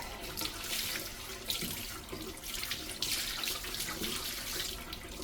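Tap water runs steadily over aquarium filter sponges being rinsed in a sink, a continuous close splashing hiss with small shifts as the sponges are moved under the stream.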